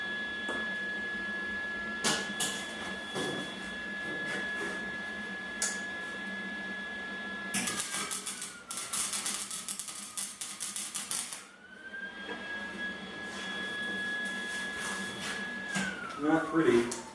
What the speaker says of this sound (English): we're going to just go play with the welder a little